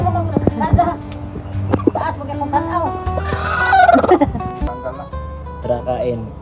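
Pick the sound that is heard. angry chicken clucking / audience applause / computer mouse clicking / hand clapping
angry chicken clucking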